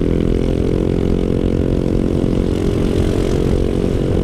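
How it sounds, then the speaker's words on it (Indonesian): A Honda Forza 250 scooter fitted with an aftermarket exhaust, heard as a steady, loud, low engine drone that holds an even tone throughout, with no talk. "ini knalpotnya kalau kalian dengerin udah diganti ya"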